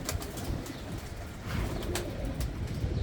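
A purebred Sialkoti pigeon coos softly in a short low burble, with light rustling and faint chirps around it and no talking.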